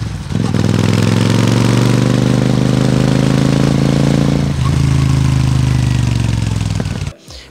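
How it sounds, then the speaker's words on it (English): Twin-cylinder motorcycle fitted with an aftermarket slim exhaust idles loudly and steadily up close, a deep throbbing note with a slight dip midway before it cuts off near the end. "The best part about this exhaust system is that initially when you install it, it'll feel loud."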